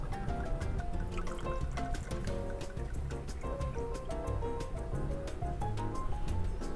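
Martinique rum poured into a measure while mixing a tiki cocktail, a steady liquid trickle running the whole time under prominent background music with bright percussive accents.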